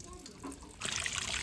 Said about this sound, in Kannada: ಪೈಪಲ್ಲಿ ನೀರು ಬರ್ತಿದೆ ಹಿಡಿದು ಕ್ಲೀನ್ ಮಾಡ್ತಾ ಇದ್ದೀವಿ